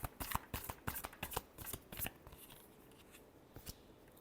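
Tarot cards being shuffled by hand: a quick series of crisp riffling snaps and slaps that taper into softer shuffling, close and quiet, with no talking.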